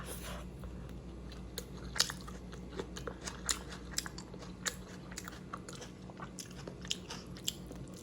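Crispy fried hilsa fish is bitten and chewed up close, a run of sharp, irregular crunches and crackles that continues throughout without talk.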